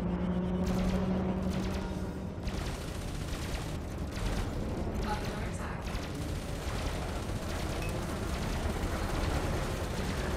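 A spaceship opens fire on a wanted target in the space game Elite Dangerous, with repeated weapon bursts and rumbling blasts over a dense roar, while voices talk in the background.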